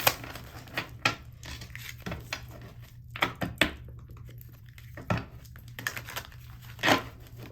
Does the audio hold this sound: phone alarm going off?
no